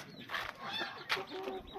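A brooding hen clucking on her nest, a few low, raspy clucks and murmurs in short bursts, close and fairly quiet.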